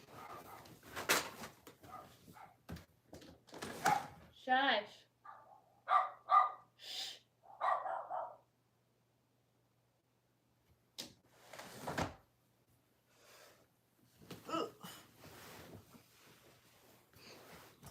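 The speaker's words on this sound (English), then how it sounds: "I'm gonna yell at these dogs." Several dogs bark in scattered bursts, close by and fairly loud in a home. A woman briefly hushes them and then goes quiet, and more barking and some low voices follow after the pause.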